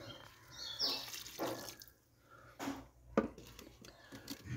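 Hydrogen peroxide solution poured onto a plant, splashing and trickling in short bursts with drips, close and moderately quiet.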